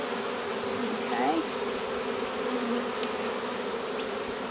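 Honey bees hum in a dense, steady drone around an opened hive during a brood inspection, close and constant throughout.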